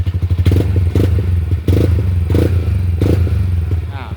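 A 2019 Yamaha Nmax scooter engine, repaired for hard starting, a leaking valve and low compression, idles close and loud with a steady low throb and rhythmic clattering ticks.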